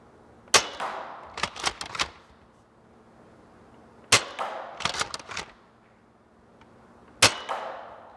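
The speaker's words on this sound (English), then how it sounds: "instead of just firing it, I'm actually gonna try to aim and see what I can hit" An Adventure Force Nexus Pro foam dart blaster fires sharp, close snapping pops, a single shot followed by quick clusters of three or four, repeated in bursts separated by quiet gaps.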